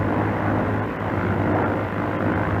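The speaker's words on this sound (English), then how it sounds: "Start your takeoff by easing the throttle forward until you have 45 to 50 inches of manifold" A Grumman F6F Hellcat fighter's radial engine roars at takeoff throttle, a dense, steady, loud drone with a low rumbling pulse that holds constant throughout.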